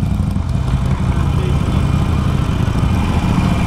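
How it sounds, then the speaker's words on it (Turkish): A Harley-Davidson motorcycle engine runs nearby with a steady, loud, low rumble and no breaks for the whole span. "Harley Davidson güzel motor ya."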